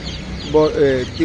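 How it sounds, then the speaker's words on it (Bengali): Naked-neck chickens at a wholesale poultry market give a couple of short, close clucks over a busy background. "এগুলা গলাচিলা মুরগি বলা হয়"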